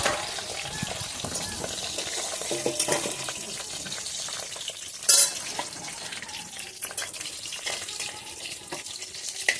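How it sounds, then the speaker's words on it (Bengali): Chital fish head frying in oil in a kitchen pan, a steady crackling sizzle with watery hiss throughout and a brief sharper spatter midway. "মাছের মাথাটা ভেজে নিলাম"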